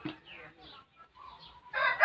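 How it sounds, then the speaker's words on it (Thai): Soft, scattered clucks from chickens close by, quiet and intermittent, ending with a louder flurry of bird sound. "พวกเราไก่มากินน้ำกันนะครับ"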